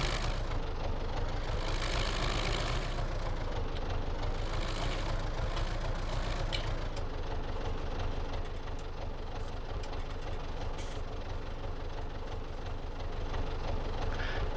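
An MTZ-82 tractor with an overheating engine runs continuously in Farming Simulator 19 while pulling a PLN 4-35 plow through a garden plot, producing a loud, unbroken drone with a rumbling knock throughout.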